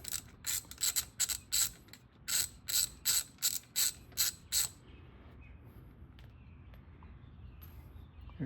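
Ratchet turning a 17mm deep well socket to break loose a PCV valve on a 2009-2011 Honda Accord: about a dozen quick, sharp clicks in uneven bursts, close up, then quiet background.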